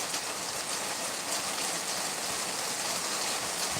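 Steady rain falling, a dense continuous hiss of drops on surfaces holding an even level throughout, with no talk over it.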